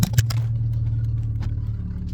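A Volvo S40's engine idles with a low steady drone while a loose metallic exhaust rattle clatters briefly at the start, followed by a few faint knocks.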